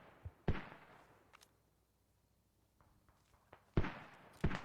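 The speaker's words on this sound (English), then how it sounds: "Mortar, they're mortars." Mortar rounds land in a tactical military video game, several sharp booming impacts at moderate distance, one early pair and a stronger cluster near the end, with quiet gaps of faint ambience between.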